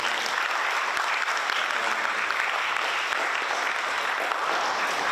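Sustained applause from an audience honouring Pak Analis, a staff member praised at an Indonesian news-point gathering; dense, steady clapping at even loudness throughout, with no talk over it.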